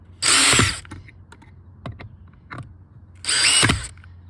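A power driver backing screws out of a DIY camper trailer door whirs in two short, loud bursts, with faint clicks and taps from handling the tool in between.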